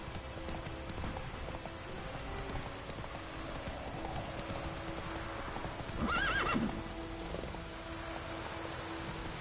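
Horse hooves clip-clopping at a steady gallop in the video game Witcher 3, with a short neigh partway through over a constant bed of ambient game noise.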